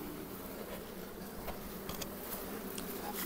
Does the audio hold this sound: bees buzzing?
yes